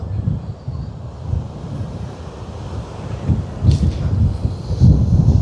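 Strong wind buffets the microphone with a steady low roar as waves crash repeatedly on the shore at a beach in Jaffna, Sri Lanka, loud and close with surges of surf.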